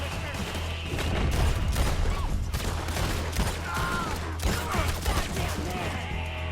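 Gunfire crackles through a woodland fight in Red Dead Redemption 2, a dense run of overlapping shots and impacts at moderate loudness over a low rumble, with shouting voices mixed in.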